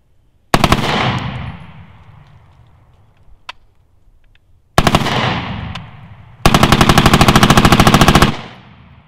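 Rapid bump-fired bursts from an Olympic Arms pistol-length upper fed by a Magpul D60 drum magazine, flash hider removed: three loud, close strings of very fast shots, the last one long and steady, with echoing decay between them.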